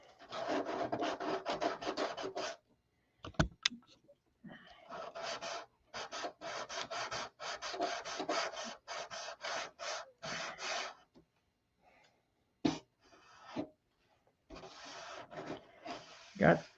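Fine abrasive paper sands paint on the canopy of a P-47 scale model, giving repeated short scratchy strokes in quick bursts with brief pauses, close and fairly loud.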